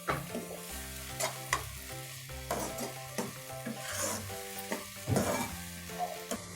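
Stuffed bitter gourd (karela) fries in a pan with turmeric and crushed coriander, giving a steady close sizzle broken by repeated scraping stirs and clatter throughout.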